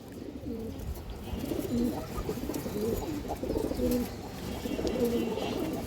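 Pigeons coo softly in repeated low, rolling calls, several phrases spaced across a few seconds over light background hiss.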